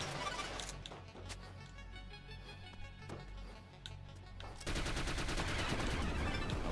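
Gunfire in Mummy Demastered, a steady stream of rapid retro-style shots hitting an enemy against a busy game soundtrack, ending in a loud, sustained burst of noise.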